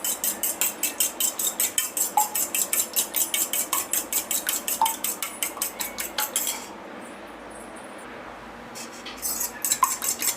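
Eggs whisked briskly in a bowl for a bread omelette, a fast, even run of clinking utensil strokes against the dish that stops abruptly, then a few scattered taps.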